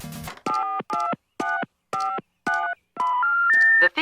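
Telephone keypad dialing tones: a short burst of noise, then a rapid series of about seven evenly spaced two-tone beeps, the last one held longer and merging into higher tones. Loud and close, with no talking.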